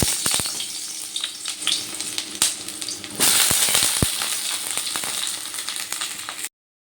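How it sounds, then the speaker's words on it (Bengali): Long strips of eggplant hit hot mustard oil and fry with a steady, close sizzle and crackle that jumps louder about halfway through, punctuated by a few sharp pops and spatters. "তেলটা গরম হয়ে গেছে এবার আমি তেলের মধ্যে দিয়ে দিচ্ছি লম্বা করে কেটে রাখা বেগুন"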